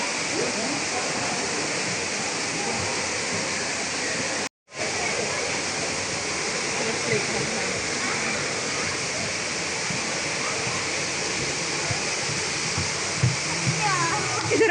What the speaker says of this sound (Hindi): ये झरने की इतनी खूबसूरत आवाज़ आ रही थी